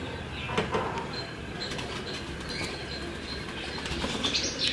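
Pigeons flap their wings on a rooftop, with a few soft bursts of flutter standing out over steady outdoor background noise; faint chirps are heard now and then.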